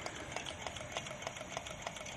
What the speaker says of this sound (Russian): Но двигатель уже, конечно, подпрогрелся.